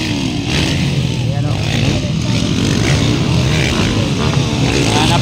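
A racing motorcycle at full throttle in a Pro Open Class final heat at Sindangan, Zamboanga del Norte, roars loud and close with a dense, unbroken engine drone for several seconds.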